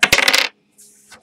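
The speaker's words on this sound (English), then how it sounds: "I'm going to roll the dice 3 times." Dice are rolled during a baseball card box break, giving a quick loud burst of hard clattering and rattling that stops abruptly, then a faint tap or two.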